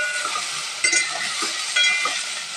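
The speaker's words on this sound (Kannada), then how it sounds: "ಇದಕ್ಕೆ ನೋಡಿ ಫ್ರೆಂಡ್ಸ್, ಫ್ರೈ ಮಾಡ್ತಾಯಿದ್ದೀನಿ." Okra frying in a spoonful of hot oil for bendekai sambar, a loud, close, steady sizzle with occasional stirring scrapes in the pan.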